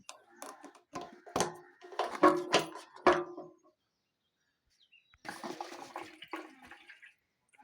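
Petrol is poured into the fuel tank of a 2018 Bajaj Pulsar 150 BS4 motorcycle, giving close, irregular splashing and gurgling bursts, then a pause and a softer trickling stretch.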